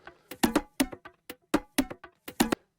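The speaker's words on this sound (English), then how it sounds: "I remember starting off with this percussion loop over here that sounds like this on its own" A solo percussion loop for an electronic track plays on its own, crisp hits in a steady repeating pattern of paired strikes and lighter ticks, close and dry with no voices.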